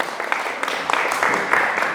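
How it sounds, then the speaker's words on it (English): An audience at the Wilton Strong networking event claps briefly for a presenter, with scattered, moderate applause under a faint murmur of voices. "Clap it up for Jane."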